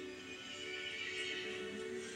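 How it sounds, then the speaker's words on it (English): A horse in the Resident Evil 8 story neighs as a drawn-out, wavering whinny, moderately faint and blended into a dense, continuous game soundscape. "The horse grew angry and summoned the other monsters."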